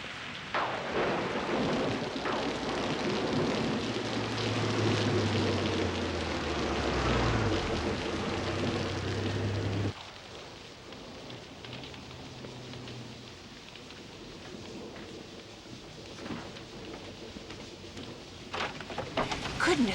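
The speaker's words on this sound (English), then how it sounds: "come in out of that rain" Steady rain falls outside in a broad, continuous hiss, louder at first and then softer, with low rumbles and faint bird-like tones mixed in and no talking.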